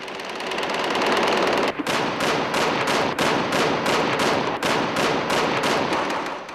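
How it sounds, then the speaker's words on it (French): Rockets and assault rifles trade fire across the Euphrates during the 2003 Iraq war, a dense, loud, continuous barrage with rapid, regular bursts of shots and no voices. "Des tirs de roquettes et de fusils d'assaut sont échangés."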